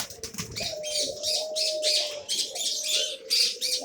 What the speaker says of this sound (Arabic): هذا حمام شمسي